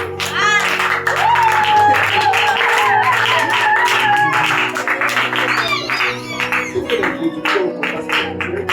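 A church congregation claps rhythmically during a Sunday thanksgiving service, steady close-up hand claps layered over singing voices and sustained musical tones.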